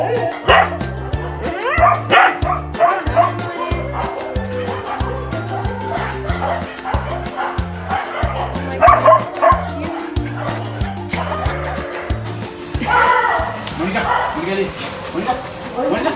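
Many dogs bark and yip at once in a loud, echoing indoor dog shelter in Sri Lanka housing about 750 dogs, with a strong rhythmic music bed underneath and occasional whimpers.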